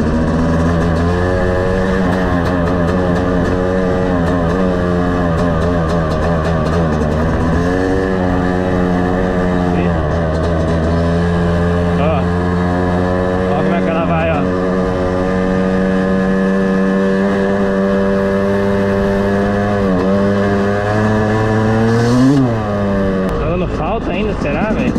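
A Yamaha YZ250 two-stroke dirt bike engine, being broken in and misfiring slightly, idles and revs unevenly for a long stretch, its buzzing pitch wavering and spiking, with a voice talking over it at times.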